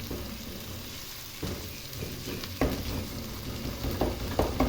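Onion and ginger frying in a pan for restaurant-style cholay, a steady close sizzle with a few louder stirring scrapes and crackles spread through, no voices.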